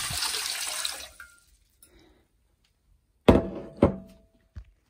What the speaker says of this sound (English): the first thing we did was add the water to the pot